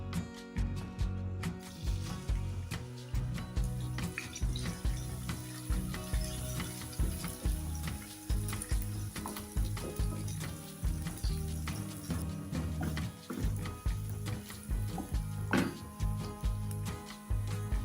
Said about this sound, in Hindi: अब हम इसमें अपने डालेंगे प्याज